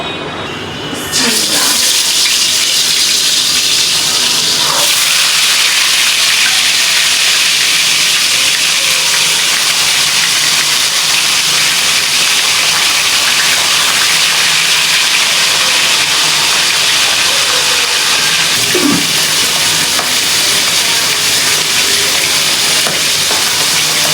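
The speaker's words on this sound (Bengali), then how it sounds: "মাছটা কিন্তু কড়া করে ভেজে নিব ঠিক আছে তো ভাজা হতে থাকুক" River fish sizzle steadily as they fry in hot oil in a pan, a loud, continuous crackling hiss that begins after a brief opening and holds without any talking.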